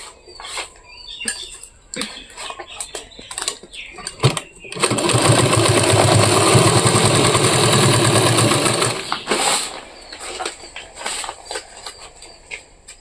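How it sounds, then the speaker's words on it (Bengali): Sewing machine stitching a bag made from a rice sack, run slowly: a steady, loud mechanical whirr of about four seconds in the middle, framed by softer clicks and handling sounds before and after. "তোমাদেরকে শেখানোর জন্য আমি কিন্তু মেশিনটা একটু ধীরে ধীরে চালাচ্ছি"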